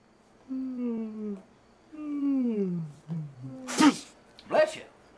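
A voice draws out a couple of whining, nasal breaths that build into two sharp sneezes close to the mic.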